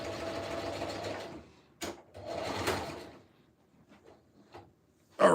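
A sewing machine stitches a camo helmet cover in short bursts, running steadily for a second or so, pausing, then buzzing again, with quiet handling noises in between and a brief restart at the end.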